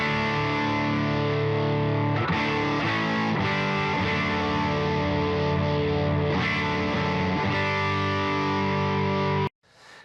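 An electric guitar runs through a distortion pedal into a Benson Amps Monarch Reverb amp, giving a thick, saturated tone with sustained chords and a few picked changes before it cuts off abruptly near the end.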